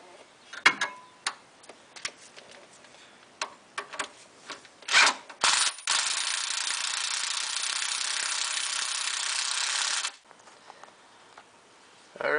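Bolt being tightened back into place under a Jeep Wrangler TJ, heard as scattered clicks and taps, a short burst of quick ratchet clicks, then a long steady rasping ratchet run that stops abruptly, with light knocks at the end.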